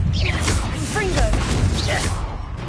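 A fire spell cast in Hogwarts Legacy gameplay, a loud sustained whoosh of magic over dense combat noise, with a voice talking over it.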